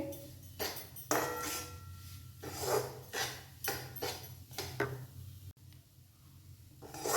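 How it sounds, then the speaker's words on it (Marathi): Semolina (rava) stirred and roasted in ghee in a pan over a low flame, a steady run of soft rasping scrapes of the spoon against the pan, repeated in uneven strokes with no talk. "सतत हलवत सतत ढवळत आपल्याला हा रवा भाजून घ्यायचा आहे"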